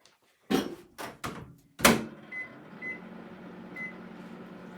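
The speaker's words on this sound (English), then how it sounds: "we need to put it back in the microwave for another 10 seconds" A microwave oven warming ruby chocolate: several sharp door and button thunks, then a low steady running hum with a few faint beeps over it.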